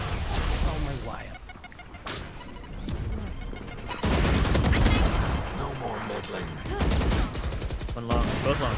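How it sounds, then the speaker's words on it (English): Rapid gunfire from a Valorant-style tactical shooter match, dense bursts of shots cracking close and loud almost throughout, mixed with game sound effects while a player talks over the action. "I keep shooting this Yoru clone, switching dude."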